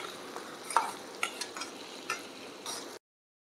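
Onion and chili stir-fried in a pan until reddish for a drumstick-leaf bhaji, a soft steady sizzle broken by a few light scraping strokes of a spatula, close and quiet, ending in sudden silence.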